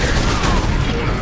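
Dense, continuous burst of rapid gunfire from the Space Marine video game, loud and close, with a voice speaking briefly underneath the volley.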